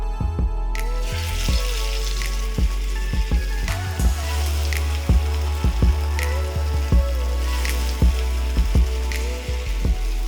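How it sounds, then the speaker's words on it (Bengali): Fish frying in oil in a frying pan, a steady close sizzle with scattered sharp pops and spatters throughout. "ফ্রাই প্যানে আবারও তেল দিচ্ছি এবার মাছ ভাজবো"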